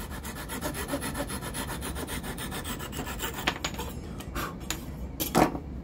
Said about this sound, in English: Cut that dowel pin like it's supposed to.